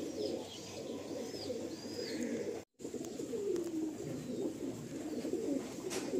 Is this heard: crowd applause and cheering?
no